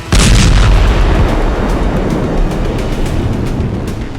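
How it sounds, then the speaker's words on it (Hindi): A deep, loud blast from a second Israeli strike on Kafar Kila village in southern Lebanon hits at once and rolls into a long, rumbling roar that slowly dies away. "और फिर कुछ सेकंड के बाद हुआ दूसरा धमाका।"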